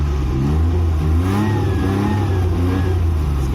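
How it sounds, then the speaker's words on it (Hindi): A used Maruti 800 car's engine revs hard, a loud, steady mid-pitched drone that climbs and holds throughout a short burst, close to the vehicle and without talking. "अब इसको रेस करके मैं दिखाती हूँ"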